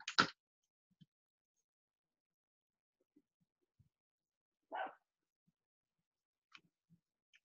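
Faint, muffled barks from a small dog outside a window at night: a single sharp yap at the start and another a few seconds later, with scattered soft ticks between them and long quiet gaps.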